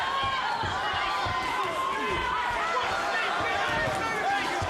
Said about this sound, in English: People are standing up and cheering here.